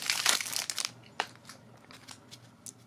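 Crinkly plastic packaging for a pack of miniature Magic: The Gathering cards is pulled open up close, with a burst of loud crackling and crumpling at first, then softer scattered rustles and snaps.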